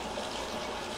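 Water runs steadily while a child's hair is rinsed at bath time, a continuous soft gushing flow with no break.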